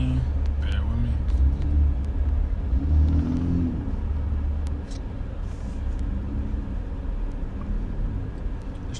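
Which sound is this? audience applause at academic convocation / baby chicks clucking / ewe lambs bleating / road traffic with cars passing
road traffic with cars passing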